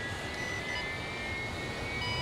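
Aircraft engine in the ArmA 3 video game, a continuous loud jet roar with a thin steady whine on top while taxiing on an LHD deck, unchanging throughout with no voices.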